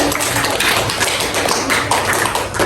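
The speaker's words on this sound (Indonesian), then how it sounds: "Oke, kasih aplaus untuk teman." Classroom applause for classmates after a group presentation in a dance class, a dense burst of many hands clapping steadily and fairly loud for a few seconds, with no talking.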